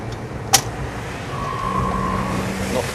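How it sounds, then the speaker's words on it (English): A Porsche 911 driving and downshifting smoothly from third to second gear, heard as a steady engine and road hum with a sharp click near the start and a faint rising tone. "Not the tyre squeal, the gear changes."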